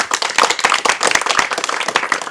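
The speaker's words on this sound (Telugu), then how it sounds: "సుభాష్ భాయ్ గట్టిగా మళ్ళీ క్లాప్స్ కొట్టాలి" An audience claps loudly and steadily throughout, dense overlapping hand claps with no talk, at a Ganesh arrival celebration procession in Warasiguda, Hyderabad.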